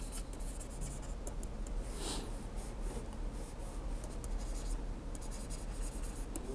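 Someone writes a formula during a math lecture on combinations, producing continuous faint scratching and rubbing strokes of a pen or marker, with short pauses and repeated bursts of writing.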